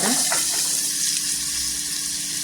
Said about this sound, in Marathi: आता हिरवे वाटाणे छान असं परतून घ्यायचं तेलावर.